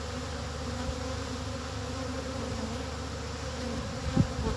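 Honeybees droning steadily around an open, heavily populated backyard hive stacked with three deep boxes and a super, a low constant buzz close by with a brief louder pass near the end.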